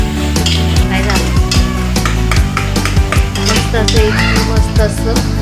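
Tomatoes cook in a pan with onion, garlic and mustard seeds, a loud close sizzle broken by rapid metallic clinks and scrapes of a spoon stirring against the pan, no talking.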